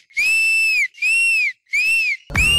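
At a Dhee 13 dance performance, someone whistles loudly in three long, sustained shrill blasts with short breaks between them, followed by a burst of crowd noise at the end.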